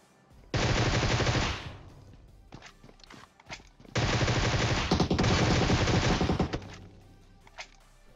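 Bursts of automatic gunfire in the PUBG Mobile battle royale game, two long loud volleys separated by scattered single shots and shuffling, close and dense, with no talk over them.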